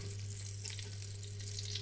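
A steak sizzles in a hot pan, a close, steady crackling hiss of frying that runs continuously over a low electrical hum, with no talking.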